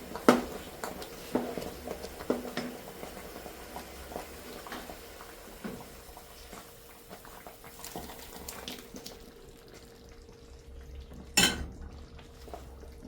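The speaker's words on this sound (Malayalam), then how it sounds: "ഇത് ഇടയ്ക്കിടയ്ക്ക് ഇളക്കി കൊടുത്തോണ്ടിരിക്കണം കേട്ടോ" A spoon stirs sauce in a cooking pot, making quiet metal clinks and scrapes at irregular moments, with a louder knock near the end and a soft watery background.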